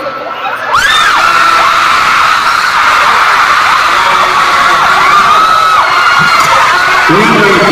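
A big crowd at a concert in Manila, loud sustained cheering, screaming and whooping that rises after a brief quiet start and keeps going throughout.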